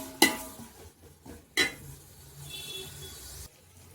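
Ginger and garlic being stirred in a hot pan for paneer biryani, a few scraping and clinking spoon strokes against the pan over a faint low sizzle, quiet and close, with two sharper knocks early on.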